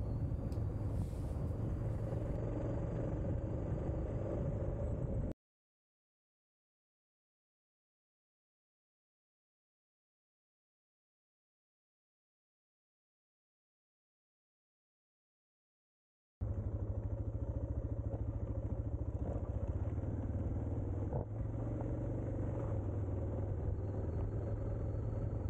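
A Suzuki DR650 motorcycle engine drones steadily while riding, loud and close, cutting out for a long silent gap partway through before the same continuous rumble returns.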